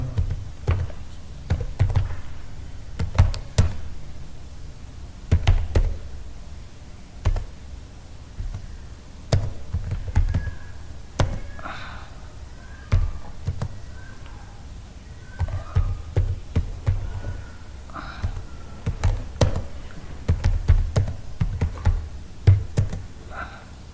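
Keys on a computer keyboard clack in uneven bursts and pauses, close and crisp, with quiet rustles between the typing runs and no speech.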